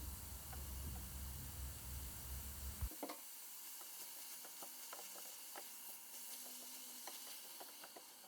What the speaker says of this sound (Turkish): Saplar yumuşayana kadar kavurma işlemine devam edelim.